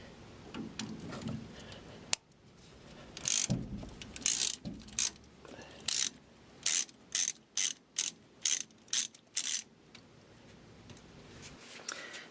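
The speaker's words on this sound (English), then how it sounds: "just need a ratchet and a socket." A ratchet and socket loosen the steering shaft clamp bolt on a 1966 Chevelle power steering box, with a few scattered clicks, then a close, even run of about eight sharp ratcheting bursts.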